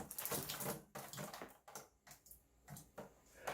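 An air-conditioner condensate pump sitting in a sink, switched on and running, gives faint, irregular watery gurgling and spurting bursts with brief pauses between them.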